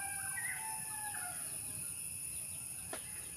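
Chickens at a backyard next to a house cluck faintly while a rooster gives a soft, distant crow, all set against a steady background hiss.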